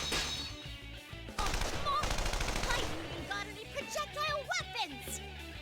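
Heavy artillery gunfire crashes through a Persona 4 Arena battle in dense, loud bursts, with rapid shots layered over game music and tonal effects before easing into sparser noisy hits.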